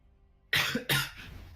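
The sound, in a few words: cough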